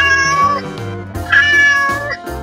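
A cat meows several times in a row, loud and close, with drawn-out tonal cries and short breaks between them.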